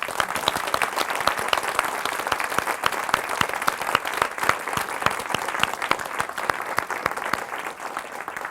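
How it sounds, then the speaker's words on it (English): Lecture attendees applaud recognized guests with a steady, full round of clapping from a sizable crowd, individual sharp claps standing out through the sustained applause for over eight seconds. "would you please give them a round of applause?"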